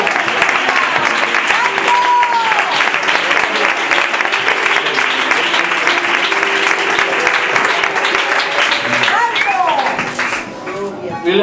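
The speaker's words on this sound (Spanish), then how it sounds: "Aplauda a tu Dios, por favor." A church congregation at a Sunday service in Benalúa, Alicante, claps loudly and continuously in praise, a thick, sustained roar of many hands with voices calling out through it, thinning briefly near the end.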